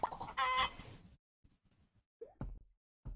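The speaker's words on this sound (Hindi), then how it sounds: "अरे वो मुर्गी वहां पे कैसे पहुंच गई?" A chicken in the FarmLand video game gives a few short clucks and one brief rising squawk, close and fairly quiet, separated by near silence.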